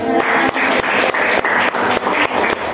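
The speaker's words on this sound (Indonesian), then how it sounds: "Ya, tepuk tangan dulu." A classroom group claps for classmates after their presentation, a loud and dense burst of applause that is sustained for a few seconds with a steady rhythmic pulse, with no talking over it.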